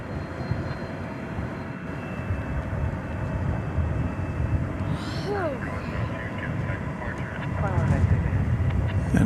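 An Airbus A220 arriving at DFW Airport at night from Salt Lake City, a steady moderate engine rumble with a rise toward the end, joined midway by brief chirping sounds and faint voices.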